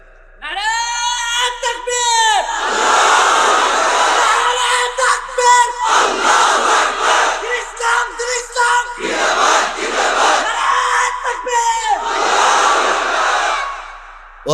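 A large crowd chants slogans in unison at a religious gathering, loud, repeated shouted phrases rising and falling in steady waves for the whole stretch.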